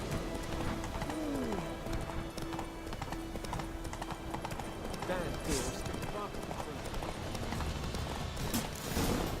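Rapid clip-clop of horse hooves galloping close by in The Witcher 3: Wild Hunt, continuing throughout with game sounds and a voice in the background.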